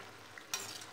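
Kai suruL snacks fry in hot oil, giving a brief sizzle that swells suddenly partway through after a quiet bubbling start, close and fairly loud.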